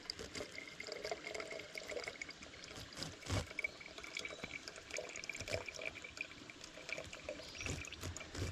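Cold water from a filter bag trickling and pouring into a bottle outdoors, a soft steady gurgling stream with faint splashes, quiet and close, with no talking.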